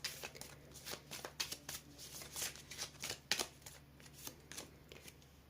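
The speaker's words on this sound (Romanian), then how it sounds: "Să le amestec aici în fața camerei." Tarot cards are shuffled by hand close up, a quick run of soft papery riffles and flicks, fairly quiet, with no talking.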